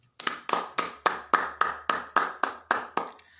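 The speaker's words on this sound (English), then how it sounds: "round of applause for those who could not be here" A round of applause comes as about ten crisp, evenly spaced hand claps in a quick steady rhythm, close and clear against a quiet background.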